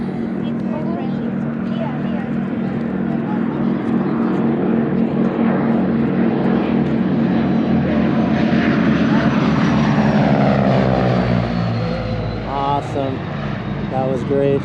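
Propeller airplanes make a low flyby at an air display in Petaluma, California, a loud droning engine roar that swells and shifts pitch as they pass close overhead, with people talking throughout.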